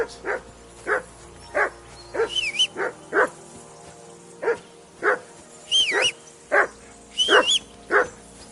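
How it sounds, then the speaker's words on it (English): A dog barks in the video game Kingdom Come: Deliverance 2, in separate loud bursts, some rising into high yelps, spaced roughly a second apart with no talking. "Whistle at that dog of yours to stop barking."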